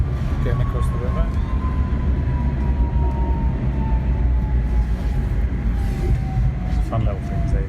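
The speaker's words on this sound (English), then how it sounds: "On a tram, getting across the river." Prague tram crossing the river, a steady low rumble of the car on its tracks heard from inside, with a long gliding motor whine and people talking over it.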